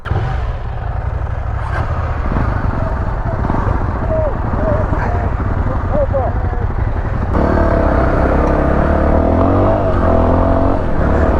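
KTM 790 Adventure R motorcycle in rally riding mode pulls away, its steady engine drone loud and close throughout, rising in pitch and intensity partway through as the bike gets under way, with occasional voice sounds over it.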